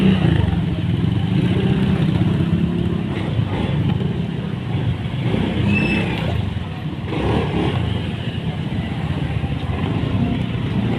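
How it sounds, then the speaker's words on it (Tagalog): Cars and motorcycles pass on a busy street, a continuous loud roar of engines with rising and falling revs and some clatter, steady throughout with no speech. "Traffic na naman."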